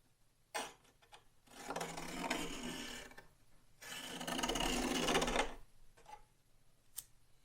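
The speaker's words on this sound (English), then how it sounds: "I've loaded my block with some 220 sanding paper, and that takes off the edges of the fiberglass." Two long, rough scraping strokes of 220-grit sandpaper on a sanding block rubbing over hard fiberglass edges on a model Pilatus PC-6 airplane, close by, with a couple of sharp clicks before and after in a quiet room.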